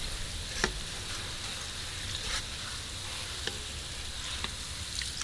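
Shallots frying in oil in a pan for pork crackling chili oil crisp, a steady soft sizzle with a few faint pops and ticks, no talking.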